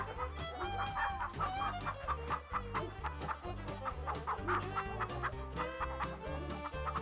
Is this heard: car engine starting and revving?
no